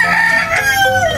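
A pumpkin hatch gamefowl rooster crows close by, one full cock-a-doodle-doo with a rising then falling call, loud and clear over a steady farmyard background.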